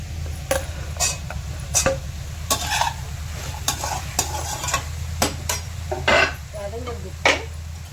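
Tomatoes with ginger and garlic sautéing in a pan for paneer butter masala, a soft sizzle under a low hum, punctuated by repeated sharp spoon scrapes and clinks against the pan.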